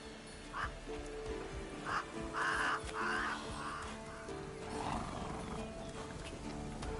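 Roach, a horse in The Witcher 3, trots with steady clip-clop hooves under layered game ambience, with crow-like caws and a brief whinny rising in bursts over a low background drone.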